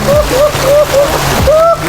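Water splashing in a cold river as someone bathes, a few loud nearby splashes over steady flowing water with a voice talking at times.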